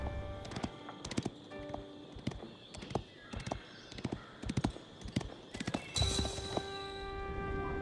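A horse's hooves clop in an uneven, galloping rhythm, sharp close impacts repeating throughout with a brief whinny-like sound near the end; no talk is heard.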